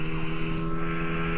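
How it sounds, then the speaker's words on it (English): A steady, droning small motorboat engine runs loud and close throughout, with a constant low hum and some wind buffeting, no voices, on False Bay. "Hopefully you can hear me over the noise of the engine."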